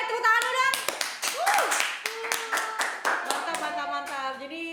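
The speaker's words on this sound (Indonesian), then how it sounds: "Oke, tepuk tangan dong." Scattered hands clap in quick irregular bursts for a podcast audience, close and fairly light, while voices talk and vocalize over it throughout.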